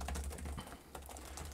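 Typing on the keyboard of a 2024 Lenovo LOQ 15-inch AMD Gen 9 laptop, soft quick key presses over a low steady hum, close and fairly quiet.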